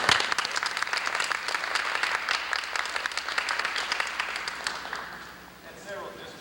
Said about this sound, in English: let's give those that have perfect attendance a round of applause